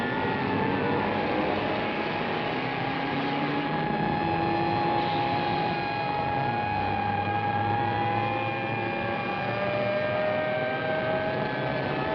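A four-engine airplane in flight with its number 4 engine on fire gives a continuous, droning engine hum with steady whining tones, unbroken for the whole stretch.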